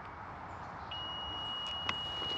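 A single faint electronic beep from a motorcycle keypad begins partway in and holds as a steady high tone over low background hum, with a tiny click near the end.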